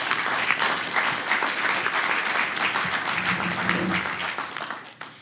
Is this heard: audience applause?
yes